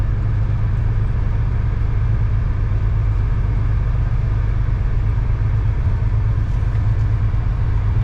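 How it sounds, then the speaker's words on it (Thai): A Mercedes-Benz car being driven into a home garage, with a steady, loud low engine rumble heard from inside the car and no voices. "ตอนนี้เข้าบ้านแล้วนะครับ ขับเข้าบ้าน ขับเข้าอู่"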